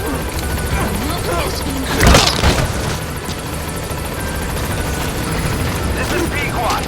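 A helicopter in Metal Gear Solid V arrives at a landing zone, its steady rotor roar running the whole way with a louder burst near the middle, while game radio voices talk over it.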